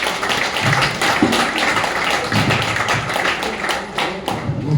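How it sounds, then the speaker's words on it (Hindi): Audience at a Kangen Water health seminar applauding loudly, a dense, continuous patter of many hands clapping from close by, sustained evenly throughout with no voices. "एक बार जोरदार तालियां होनी चाहिए।"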